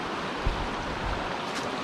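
Steady broadband rush of creek water flowing, close and continuous, running over rocks, with no voices.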